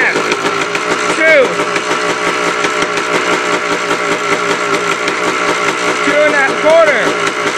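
Yamaha ATV engine running steadily during carburetor idle tuning, a continuous mid-pitched hum with brief rising squeals of revving, close and loud.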